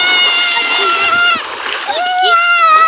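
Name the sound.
children splashing in water while swimming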